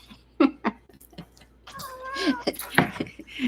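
Several house cats make short meows, the first ones near and clear, then a longer wavering cry sounds while a person speaks and laughs softly over it.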